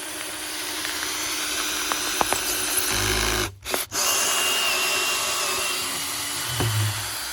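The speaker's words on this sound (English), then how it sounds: "That's a big drill bit you have there." A power drill with a large bit whirs steadily while drilling foam pumpkins, briefly stopping and restarting partway through, with a low motor hum throughout.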